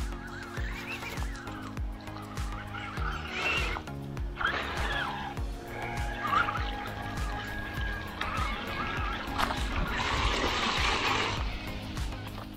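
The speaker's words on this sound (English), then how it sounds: "Getting bogged down a bit in the mud." A Feiyue FY10 1/12 scale waterproof amphibious RC truck churns through mud and water, its small motor whining steadily under continuous splashing and sloshing that grows louder toward the end.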